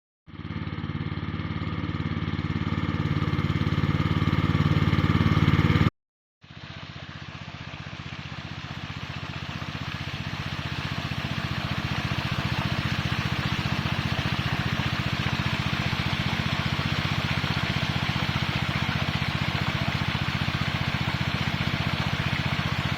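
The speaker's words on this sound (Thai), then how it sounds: "เดี๋ยวไปสูบน้ำใส่กิ่งไผ่กันเลย" Small engine-driven water pump running steadily while pumping water onto a bamboo grove, a loud continuous motor drone with rushing water, briefly cut off once early then resuming unbroken.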